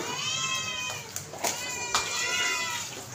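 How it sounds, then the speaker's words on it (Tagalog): Several cats meowing close by while being fed, with drawn-out overlapping meows and a couple of short sharp sounds, all over a steady background hum. "Ayan, mga pusa dito."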